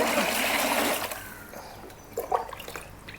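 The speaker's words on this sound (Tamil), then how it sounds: "ஃபஸ்ட்டு ஒரு ரெண்டரை லிட்டர் அளவுக்கு தண்ணி வந்து நான் எடுத்துக்கிறேன்" Water poured into a measuring jug while measuring out around two and a half litres, a close, steady gushing pour that stops, leaving a few brief splashes and drips.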